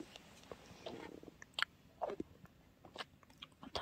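Someone eats a caramel-flavored candy, with soft close crunches and chewing clicks scattered irregularly over a quiet background.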